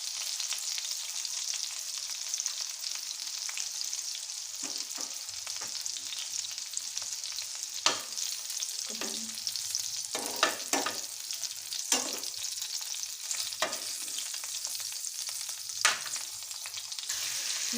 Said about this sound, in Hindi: आपने इसको 7 से 8 मिनट तक ज़रूर फ्राई करना है।